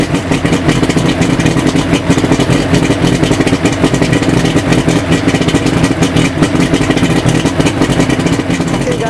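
A 2000 Johnson 90hp four-cylinder outboard motor idles loudly and close in a garage, a steady rapid chugging with rattling clatter running unchanged throughout.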